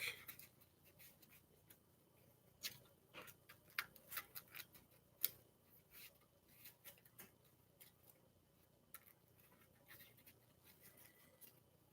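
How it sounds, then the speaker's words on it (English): A deck of trading cards is shuffled in faint, rapid bursts of soft clicks and riffling flicks, close up and quiet, with no talking. "let's shuffle the deck."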